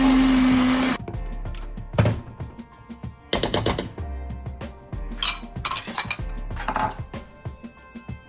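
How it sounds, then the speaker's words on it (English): A blender purees a cooked raspberry compote in loud, pulsed bursts of whirring with short gaps between them, mixed with a few clinks and knocks. "Mind your beautiful ears because I'm blending."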